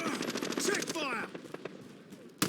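Automatic gunfire in a Call of Duty Modern Warfare multiplayer match, a rapid close burst during the first second, followed by scattered fainter shots and game noise, with speech partly overlapping.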